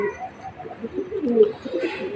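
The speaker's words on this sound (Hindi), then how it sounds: "बुलाने से सारे कबूतर बाहर आ गए" Several pigeons coo softly and repeatedly close by, their low warbling calls overlapping in a gentle murmur.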